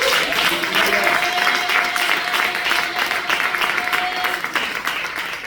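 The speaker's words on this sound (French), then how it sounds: "Acclame très fort Jésus ce soir" A church congregation applauding and cheering at an evening service, a dense continuous wash of clapping and crowd voices throughout, loud and close, with a faint sustained tone.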